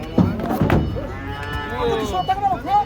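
Cattle being unloaded from a truck low loudly and up close, with a couple of drawn-out moos over background clatter and faint voices.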